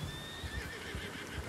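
A horse in the video game Red Dead Redemption 2 whinnies with a high, wavering neigh, followed by soft hoof clops and low snorts.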